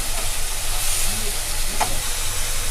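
Ginger garlic paste sizzles softly in oil as the base of a fish curry, a steady close hiss with faint crackles and a brief scrape near the end, and no voices.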